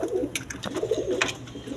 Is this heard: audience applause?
no